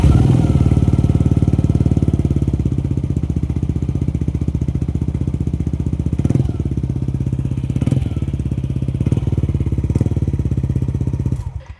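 A Yamaha NMAX 155 V2 scooter engine, idle for three months with a suspected ECU fault, runs loud and close with a steady, rapid chugging idle, then cuts off abruptly at the end.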